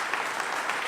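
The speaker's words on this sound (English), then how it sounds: "frankly, a round of applause for the hard work that you did." A round of applause at a community preservation committee meeting: brief, steady clapping from a small group, moderately loud and continuous, with no talk over it.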